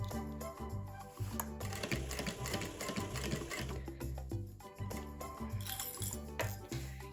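A sewing machine stitches bias binding onto a waterproof portable changing pad, running in rapid rhythmic mechanical bursts with brief pauses and a steady clatter, close and loud, with no talk.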